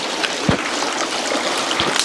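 Water from a mountain stream in old-growth forest runs over rocks near a bridge, a steady close rushing wash with a few small splashes, no talk.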